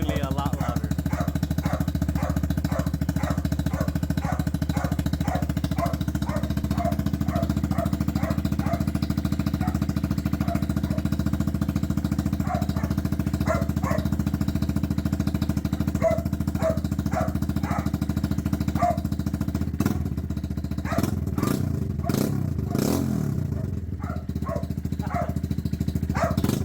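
A KP Mini 150 RS EFI motorcycle idles and revs with a louder aftermarket exhaust, a steady close engine drone with a brief sharper burst of throttle near the end, while a dog barks repeatedly in the background.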